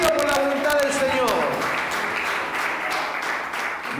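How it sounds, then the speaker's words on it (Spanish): A church congregation applauding during a Spanish-language sermon, a burst of clapping that fades over a few seconds, with a preacher's voice over the start. "Den un aplauso a Cristo"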